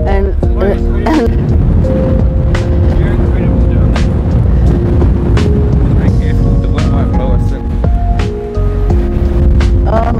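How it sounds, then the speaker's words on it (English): Strong winter wind blasts the microphone on the coast at Botany Bay, Australia, making a loud, constant roar under a person's voice. Surf or passing traffic may also be mixed in. "oh my gosh, that wind's so strong"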